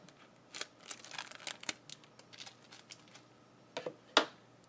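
Scissors cutting sunshade material for a car, a series of quiet close snips and rustles in irregular bursts, ending with one sharper crisp cut.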